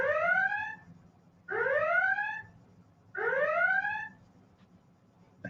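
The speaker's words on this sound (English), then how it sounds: "Computer, red alert. Red alert. All hands at battle stations." A computer red alert alarm sound effect sounds three times, each a loud, rising, whooping electronic tone lasting about a second, separated by short pauses.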